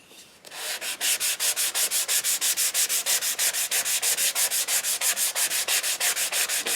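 Rapid, even back-and-forth sanding strokes on the wooden body of a handmade Native American flute, close and loud, with dozens of regular rasping passes after a brief quiet start and no voices.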